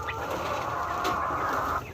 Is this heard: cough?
no